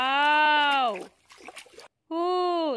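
A toy dumper truck splashes through water in brief noisy bursts, set between two loud, drawn-out vocal imitations of a revving engine.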